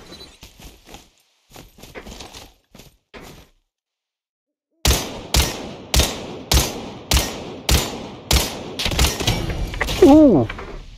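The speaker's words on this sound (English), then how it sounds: "I was shooting that bot, bro!" Steady single shots from a Lost Light firefight, aimed at a bot, ring out loud and close at a regular, even rhythm after a run of fainter clicks and a short silence, with a hooting, sliding tone near the end.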